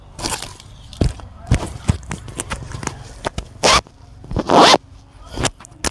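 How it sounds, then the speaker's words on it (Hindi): Zipper on a pair of sports trousers pulled open and shut in several quick bursts, close and crisp, with soft rustling and handling noise between the zips and no talking. "जिप इसकी बहुत अच्छे वाली लगी हुई है चाइना वाली से"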